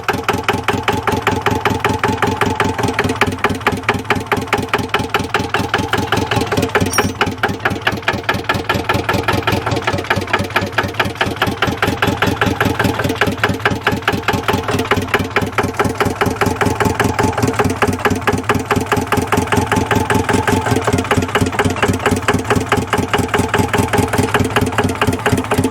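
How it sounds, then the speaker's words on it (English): The worn starter of a diesel 4x4 man-lift cranks steadily and rhythmically for the whole stretch, loud and close, and the engine never catches because it is short on fuel. "Oh, this poor starter. Come on, baby, come on."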